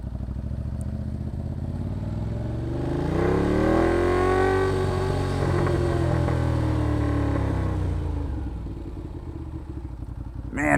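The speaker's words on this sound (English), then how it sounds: "Now that it's up to temperature, it's running even smoother down low." A motorcycle engine runs on a dyno, idling with a low rumble before revving up smoothly to a sustained, rising and falling drone, then easing back down, close and fairly loud throughout.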